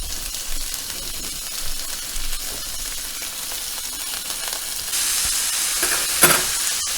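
Venison pieces searing in a hot pan for stroganoff, a steady close sizzle with soft stirring scrapes, growing louder and brighter near the end as the meat is turned.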